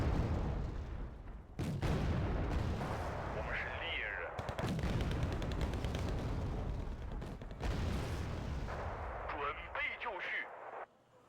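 An artillery piece fires in a military strategy video game, with heavy booms and bursts of gunfire echoing across the battle while someone talks over the action.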